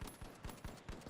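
Rapid automatic gunfire in The Finals rattles off in a quick, even burst of about six shots, faint and distant-sounding.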